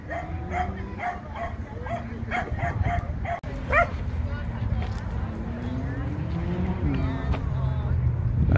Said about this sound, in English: The big dogs and the small dogs start chasing each other through the fence.